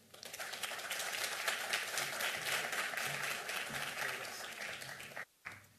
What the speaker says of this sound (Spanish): Lo recibimos con este aplauso.